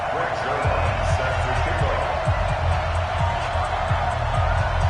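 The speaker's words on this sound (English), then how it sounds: "This crowd is ready as their guys get set to match up between the Indianapolis Colts and the Dallas Cowboys." Stadium crowd roars steadily in a football video game on a Thanksgiving afternoon in Dallas as the Indianapolis Colts and Dallas Cowboys line up, with dull thumps mixed into the loud, continuous crowd noise throughout.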